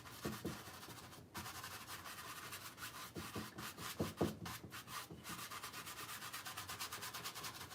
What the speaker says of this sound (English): I like these stiff bristles, because you can basically scrub the paint into it